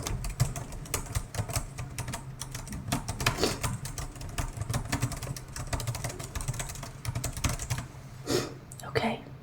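Notes are taken during an ASMR ancient-philosophy teaching roleplay as a dense run of close, crisp tapping and clicking, like quick typing, continuing for the whole stretch with faint soft vocal sounds underneath.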